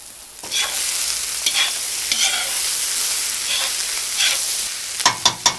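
Onion and carrot sizzle steadily in a hot frying pan, with occasional stirring scrapes and a few sharp clacks of a utensil near the end.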